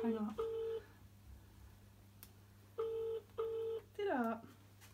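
Phone tones ring out loud on speakerphone as a call is dialed, with separate steady beeps in short bursts and a falling tone at the end, over a low hum.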